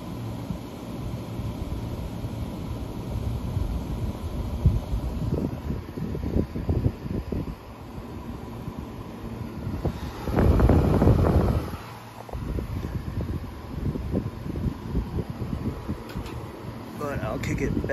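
A vintage 1970 Signature 6,000 BTU window air conditioner runs with a steady low hum and fan whoosh, with a few louder rushing surges and knocks along the way.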